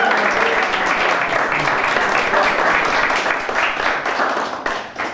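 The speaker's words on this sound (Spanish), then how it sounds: "Un aplauso para Diana por todo" A studio audience applauds steadily in a loud, dense wash of clapping that lasts several seconds and fades slightly at the end.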